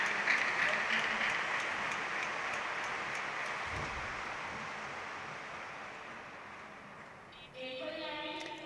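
An audience at a lecture event welcomes a guest with a soft, even wash of applause that stays distant and gradually fades, ending with a brief tonal sound.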